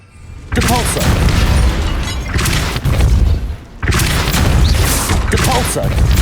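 Depulso spells cast in the Hogwarts Legacy video game land as loud, booming blasts with heavy thumps, arriving in three bursts separated by short gaps, and a voice calls out over them.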